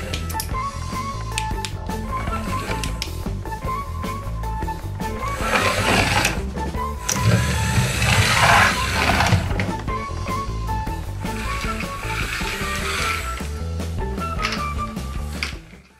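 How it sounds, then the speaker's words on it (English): Two small electric motors on a homemade light-driven robot run together, making a close, continuous mechanical whir with gear-like chatter that swells in the middle and stops abruptly at the end. "If you direct the light on both photocells at once, both motors will operate."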